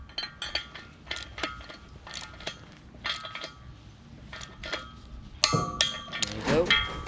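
Flange bolts on a beam tightened with a wrench, giving sharp metallic clicks and clanks in irregular clusters, close by, ending in a louder ringing clatter of metal.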